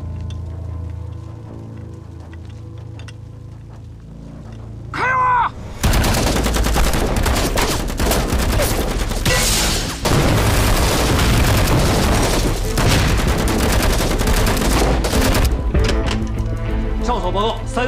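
Intense gunfire in a battle on a hilltop, dense bursts of rifle and machine-gun fire with booming blasts, loud and continuous after a brief quieter opening.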